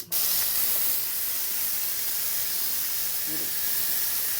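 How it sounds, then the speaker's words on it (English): Steam blasts from the pressure release valve of an Instant Pot cooking lentils, a loud, close, continuous hiss that starts abruptly and holds steady. "So we got to turn the valve, take all the steam off."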